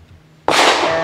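A DoubleStar PHD rifle fires a single loud, sharp gunshot up close, with a short ringing decay after it.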